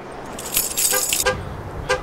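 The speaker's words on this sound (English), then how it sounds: "I hear the keys. That's what starts this truck." Keys jangle in bright metallic bursts near a truck, a few short clusters of clinking over a low vehicle hum with a brief horn-like tone.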